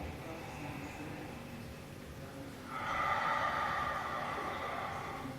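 Deep inhalation during a Pilates exercise: a soft, breathy rush of air that swells partway through and holds steady to the end, close and fairly quiet with no talking.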